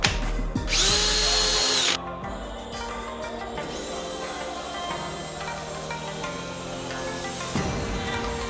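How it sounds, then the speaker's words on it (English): A cordless drill whirs at high speed, then slows to a lower, labored whine and grinding hum, running continuously and close by. "If your drill starts sounding whining"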